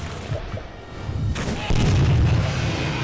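Gunfire in the first-person horror game Clive Barker's Undying: a few heavy, booming shots that ring out loudly over a dense rumbling background.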